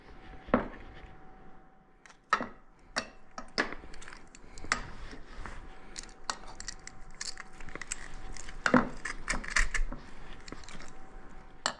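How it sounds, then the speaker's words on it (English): Garlic cloves are worked through a metal garlic press in a kitchen while preparing escargot, giving scattered close clicks, taps and small metallic clacks at an irregular pace over a faint steady hum. "I'm just going to use this garlic press."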